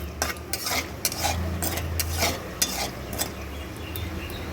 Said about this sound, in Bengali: তেলের মধ্যে কয়েকটা কাঁচা বাদাম দিয়ে একটু ভেজে নিচ্ছি